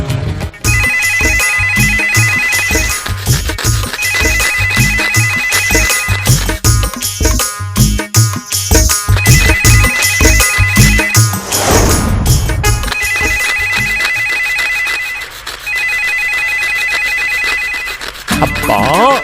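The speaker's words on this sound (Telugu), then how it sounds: "ఫోన్ ఎత్తరా, చెవులు చిల్లులు పడుతున్నాయి" A telephone ringtone rings loudly and repeatedly in a home, a patterned electronic melody recurring in bursts over background music, with brief pauses between rings.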